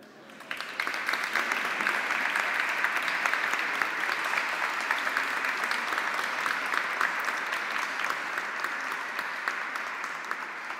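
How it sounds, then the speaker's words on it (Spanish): A large audience at an award ceremony in Argentina gives sustained applause for a man's birthday. The clapping is dense and even, holding steady for about ten seconds with no one speaking. "Me encantaría que le brindemos un fuerte aplauso porque está cumpliendo años."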